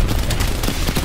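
Rapid MP5 submachine gun fire in Black Ops Cold War, shooting through a building: a loud, dense, continuous burst of shots up close.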